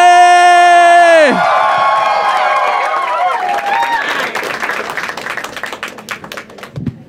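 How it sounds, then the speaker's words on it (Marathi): A musical sting with sustained tones cuts off, then a live stand-up comedy crowd bursts into applause and cheering for comedian Pranit More, dense clapping with whoops and voices mixed in. "जोरदार टाळ्या वाजवा for my brother mister Praneeth More"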